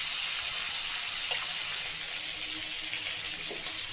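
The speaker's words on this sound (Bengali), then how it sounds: "ঝোলের পানি দিয়ে দিলাম," Curry water is poured into a cooking pan of frying eggplant and egg, giving a steady, fairly soft broadband hiss of liquid that runs continuously without a break.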